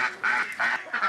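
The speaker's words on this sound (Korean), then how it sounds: "닭, 오리, 기러기가 한 집에서 합니다" Ducks and geese on a mountain farm in Muju, Korea, honk and quack in several close, loud bursts at feeding time.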